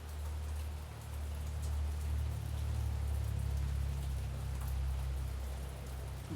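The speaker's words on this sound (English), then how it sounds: "It's raining outside." Steady rain falls outside, a continuous even hiss of drops with a low rumble beneath, with no voices.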